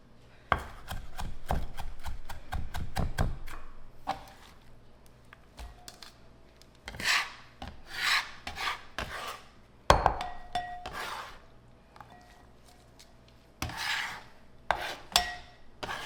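Garden cilantro is chopped on a board, a quick burst of rapid knife taps early on, followed by sparser clusters of chops and scrapes with quiet pauses between them.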